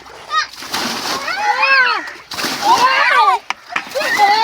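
Water poured and splashing into a rainwater storage tank in a village house, several loud splashy bursts with pauses between, while children's voices chatter and shout over it.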